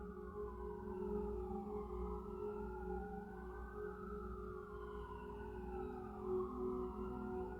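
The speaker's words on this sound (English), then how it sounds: "That siren just got closer." Distant emergency siren wailing in slow rising and falling sweeps, faint but growing steadily, heard alone for several seconds over a low background hum.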